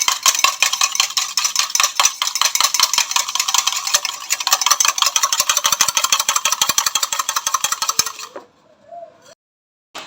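An egg being beaten by hand without pause, a dense run of rapid whisking clatter against a bowl that keeps going for about eight seconds, then stops and leaves a few quieter knocks.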